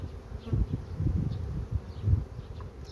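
Honey bees in a small spring hive colony, some on the divider board, hum with a low, steady buzz close by, swelling and fading slightly, with no talking.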